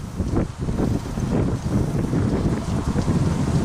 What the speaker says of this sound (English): The wind is way strong.